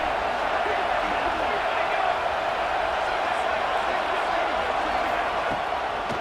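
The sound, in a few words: stadium crowd noise in video game EA Sports College Football 2026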